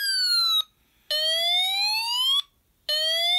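Snap Circuits electronic circuit wired to imitate a fire engine siren: loud synthetic wails that sweep upward, three bursts broken by brief silent gaps.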